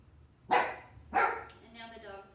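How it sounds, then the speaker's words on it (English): A dog barks indoors during a yoga class, two loud sharp barks about half a second apart, then a softer whine-like tail. "And now the dog's going to bark."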